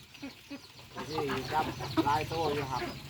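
A farmyard chicken clucking in short, repeated calls at close range, with a person's voice talking alongside it.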